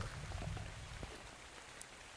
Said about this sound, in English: And it's raining again.